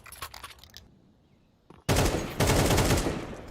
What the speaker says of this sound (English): Headshot will convert. That's a lovely shot from Wicadia